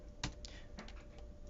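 Soft, sparse keystrokes on a computer keyboard while programming, a few separate clicks with one louder tap, heard faint and close with no speech.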